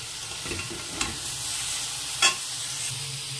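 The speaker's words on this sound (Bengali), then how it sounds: "দিয়ে পনিরটাকে ভেজে নেব" Paneer frying in a pan with salt and turmeric, a steady low sizzle running throughout with a couple of brief clinks from stirring; no one speaks.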